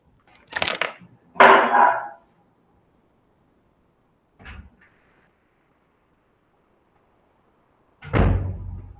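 A door at home is handled in a few short, sharp bursts of knocking and clattering, then quiet, with a final thud as it opens or swings; close and fairly loud, no talking.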